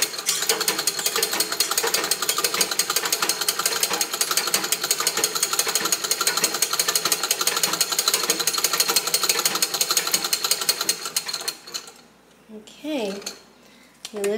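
A vintage Free No. 5 treadle sewing machine runs with a fast, steady mechanical clatter of ticking and rattling for about eleven seconds, then stops as a voice speaks briefly at the end.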